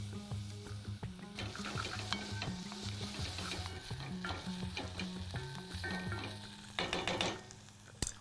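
Lemon frying in hot oil for lemon rice, a steady close sizzle with repeated stirring scrapes of a utensil against the pan, busier toward the end, no talking.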